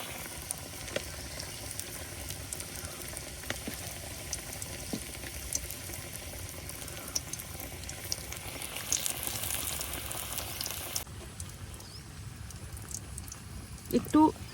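Chicken pakora pieces coated in rice flour and green chili paste frying in hot oil, a steady close sizzle and crackle that runs throughout, with a brief shift near the end.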